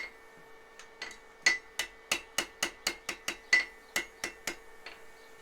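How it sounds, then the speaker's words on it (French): Light hammer blows shape a round steel bar of 6 mm, about fifteen sharp, ringing strikes in a quick even rhythm, close and clear with no talk. "faut mettre des petits coups de marteau."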